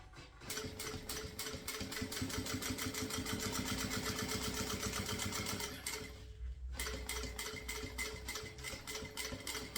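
Sewing machine stitching synthetic bag material, a fast steady close mechanical whirr of needle strokes, stopping briefly near the end before resuming.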